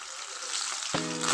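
Coriander, curry leaves and green chillies hit hot oil in a pan for hotel-style upma, a close, loud sizzle that flares up sharply partway through and keeps crackling, with no talking.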